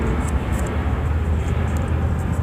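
An airplane passing overhead outdoors, a steady broad low roar that fills the whole stretch, moderately loud and distant, with no talking.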